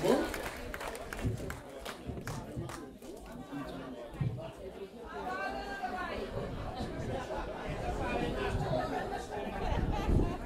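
Audience applause and crowd chatter for Randal Corsen at a Paranda di Pasku 2014 performance in Curaçao, a steady clapping wash mixed with voices that swells toward the end.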